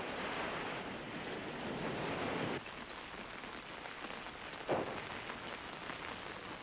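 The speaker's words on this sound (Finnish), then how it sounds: "En olisi osannut kuvitella, että aallot tulevat näin korkealle." High cartoon waves surge in a continuous heavy roar that eases slightly partway through, with a single splashy burst near the end and no voices.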